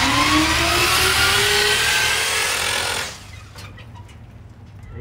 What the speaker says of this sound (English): The Jeep's in neutral, so I just push the starter button, and